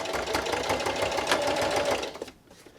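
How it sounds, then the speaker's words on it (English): A home sewing machine runs a steady straight stitch along a line on a pencil holder bookmark for about two seconds, a close rapid whirring buzz that stops abruptly near the end. "I'm going to sew right directly on that line, backstitching at the end"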